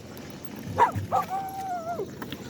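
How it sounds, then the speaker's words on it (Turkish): A street dog gives a couple of short yips followed by a drawn-out whining whimper, close by, over a quiet outdoor background. "Sokak köpeklerini doyuracağız"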